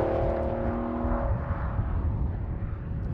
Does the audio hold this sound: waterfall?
no